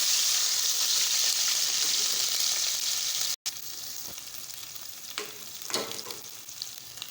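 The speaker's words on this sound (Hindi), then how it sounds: "अब इसी घी में हम अदरक लहसुन का पेस्ट डालेंगे और इसको अच्छी तरह से फ्राई करेंगे।" Ginger garlic paste sizzles and fries steadily in hot ghee, a dense close crackle with occasional stirring scrapes and no voices.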